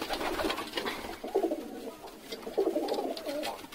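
Pigeon chicks cooing nearby, soft repeated low coos in a steady murmur against a faint background hiss, with no talking.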